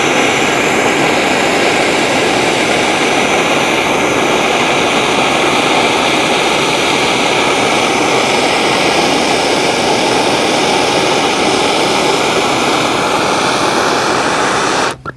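Heated hole cutter warming up for planting okra seed, a loud steady roaring blast that holds continuously for the whole stretch before cutting off abruptly at the end.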